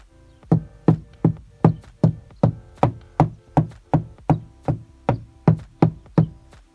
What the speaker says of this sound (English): The way you do this is you tap on the wall.